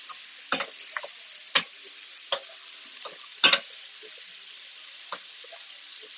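Shrimp for garlic shrimp scampi sizzles steadily in a pan, punctuated by scattered pops and crackles of spattering oil, with no talking.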